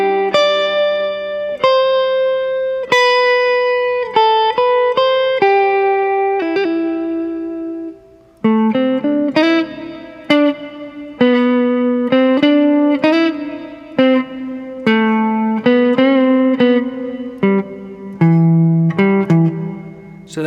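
Electric guitar plays the harmony line of an instrumental, a clear sustained run of melodic notes with effects-tinged tone and a brief pause near the middle, heard alone without talk.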